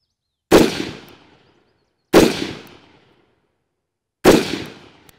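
Three sharp, loud rifle shots spaced about two seconds apart, each with a short decaying echo, fired while zeroing a rifle optic on a range.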